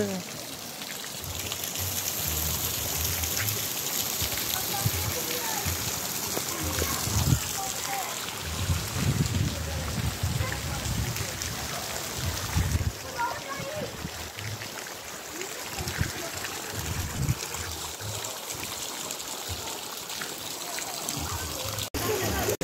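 A pot of water with eggs boils vigorously, its steady bubbling and churning running continuously, with some outdoor background noise mixed in.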